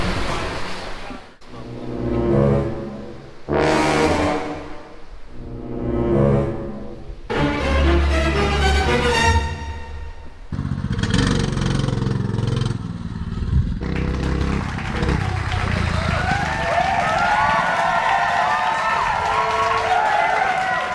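A minibike fitted with a custom-built muffler idles and revs in repeated rising and falling surges, loud and close, then settles into a rougher steady running sound with some scraping noise and background chatter.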